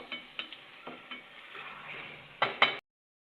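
Meat and spices fry in a pot for spicy biryani, a thin sizzle under irregular scrapes and clinks from stirring, building to two louder clatters before cutting to silence.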